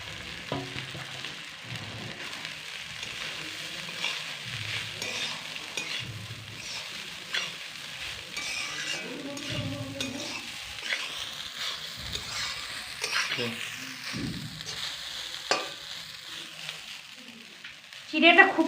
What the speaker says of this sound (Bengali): চিড়েটা খুব সুন্দর করে ভেজে নেওয়া হয়ে গেল